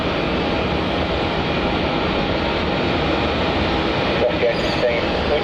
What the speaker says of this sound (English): There's that Qantas Link 717 heading up to the Terminal 1